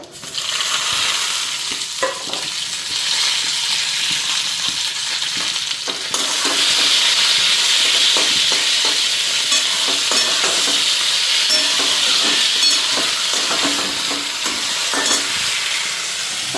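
Loud, continuous sizzling of onion, tomato and green chilli frying in hot mustard oil in a wok, close up, growing a little louder midway, with occasional soft stirring scrapes.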